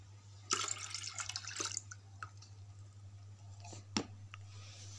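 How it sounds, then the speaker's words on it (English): Water is poured into a play potion mixture, splashing and trickling in a short burst, then a few scattered drips and clinks against a steady low hum. "now we add some water to our potion"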